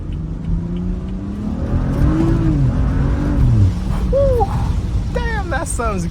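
BMW F30 335i engine pulling hard in the rain, a loud in-car rising rev that climbs for a few seconds before easing off, with talking over it.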